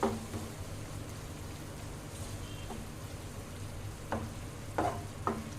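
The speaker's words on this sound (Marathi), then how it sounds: "त्यामध्ये आपण थोडी कस्तुरी मेथी आहे ती टाकूया. ती सुद्धा यामध्ये छान मिक्स करायची आहे." Kasuri methi is stirred into paneer butter masala simmering in a pan, giving a steady low sizzle with a few scraping stirs of a spoon against the pan near the end.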